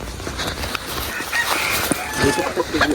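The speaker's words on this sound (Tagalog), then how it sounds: "May ilagang manok si Boss Jerome" Chickens at a rural Filipino village home cluck and call among outdoor ambient noise, with scattered bird sounds and faint background voices throughout.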